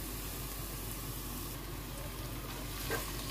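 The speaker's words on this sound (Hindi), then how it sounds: "मैंने डाल दिया चिकन बोनलेस। अब इसको करते हैं फ्राई, थोड़ा सा भूनते हैं।" Boneless chicken frying in oil with garlic gives a steady, dense sizzle that holds evenly all the way through, close and continuous with no voices.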